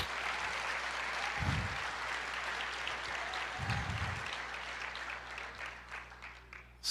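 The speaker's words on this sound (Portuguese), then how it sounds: "Aplauda o Senhor" A church congregation applauding during a sermon, sustained dense clapping from many people that holds steady for several seconds before thinning out near the end, with a low hum underneath.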